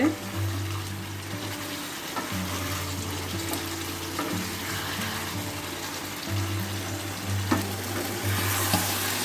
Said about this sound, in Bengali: যে মাংসটা কষিয়ে নিচ্ছি আর একটু হবে